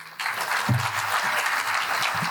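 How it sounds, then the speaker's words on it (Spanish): Applause from an academic conference audience welcoming Dr. Claudia Romero, a sustained wash of clapping that starts abruptly and holds steady, with faint voices underneath. "El aplauso gigante para recibir a la doctora Claudia Romero."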